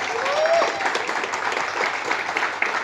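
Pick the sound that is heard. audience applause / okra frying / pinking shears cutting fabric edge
audience applause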